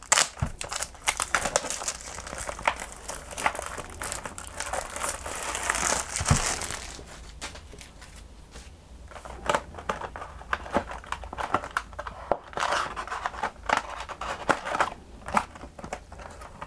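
The packaging of a Berserk trading card display box is opened with steady crinkling and crackling of wrap, plus occasional tearing, close by and fairly soft throughout.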